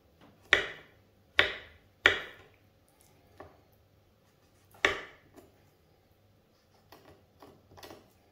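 Sharp knife chops through a stuffed, deboned poussin on a cutting board, four loud distinct strikes early, then a pause, another firm cut and a few softer taps, close and with no voices.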